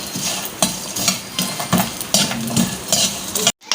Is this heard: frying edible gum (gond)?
yes